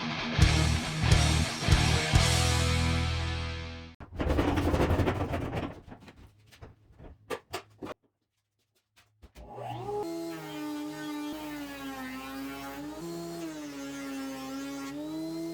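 A thickness planer milling rough oak boards gives a loud, harsh machine roar in bursts, then drops to a quieter, steady whining hum.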